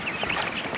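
Indonesian village chickens (ayam kampung) make a busy, overlapping clucking and squawking chatter close by, continuous and moderately loud over a brief moment with no speech.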